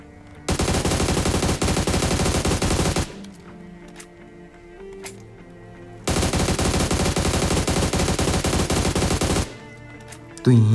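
Bursts of sustained automatic gunfire in the battle royale game PUBG during solo ranked play, two long loud rapid-fire volleys separated by a quieter pause with scattered single shots and game ambience.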